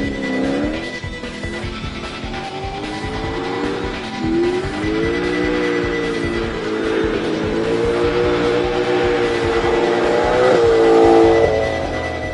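Tuned Mercedes C63 spinning its tyres, a loud, continuous engine roar rising and falling with revs while the tyres squeal steadily throughout, building to a peak near the end.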